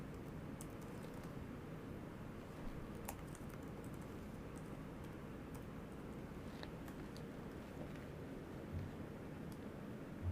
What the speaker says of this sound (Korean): 여기서 제가 그냥 IP 주소를 쳐보도록 하겠습니다.